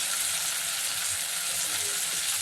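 Chili powder fries in hot oil with a steady, even sizzling crackle, close by, with no break or talking.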